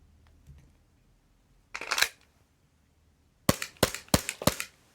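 A Tokyo Marui Glock airsoft pistol running a CO2 magazine fires one sharp crack, then after a pause four fast, loud snapping shots in a quick string, close and with no talking.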